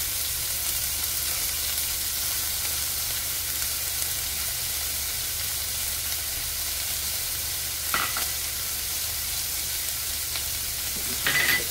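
Garlic fries in a pot for a Jamaican-style salmon cooked in coconut milk, a loud, even, continuous sizzle close up, with a couple of brief clinks near the end and no voices.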